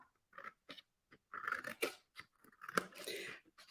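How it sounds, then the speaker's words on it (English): Scissors snip through a paper strip for a paper dragon craft, giving a series of short, crisp cuts with brief pauses between them, close and quiet. "So if I cut now, let me find my scissors."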